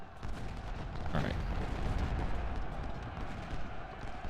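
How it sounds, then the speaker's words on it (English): Civil War brigades in Ultimate General: Civil War fire massed musket volleys, heard as a steady, distant crackle of many rifles blended into a continuous battlefield din, fairly faint throughout. "two quick brigades firing volleys into Gates's force as they retreat"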